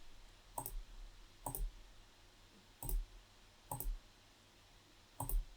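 Computer mouse clicks, five quiet separate clicks spaced about a second apart over a low steady room hum.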